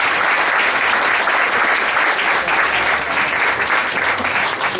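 An audience at a Médicos Sin Fronteras event applauds, a dense, steady burst of clapping from many hands that stays loud and even throughout, with no talking over it.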